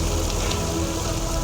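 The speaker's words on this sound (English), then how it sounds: "So is this rain all toxic?" Steady rain pouring down in a scene from a Divergent film, a dense, loud, continuous hiss of drops on surfaces with no talking.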